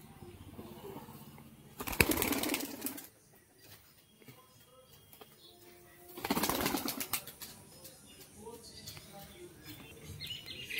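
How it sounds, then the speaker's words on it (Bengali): A pair of house-bred green pigeons gives two loud, broadband bursts of wing flapping, a few seconds apart, with soft cooing and light background noise in between. "তো একজোড়া সবুজ পায়রা দেখুন, এখানে দেখাচ্ছি"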